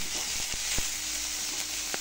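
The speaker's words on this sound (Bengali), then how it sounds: "এবার পেঁয়াজটা ভেজে নেব।" Onion sizzling as it fries in oil in a wok, salted lightly, with a steady close hiss and a few sharp ticks from stirring, no voices.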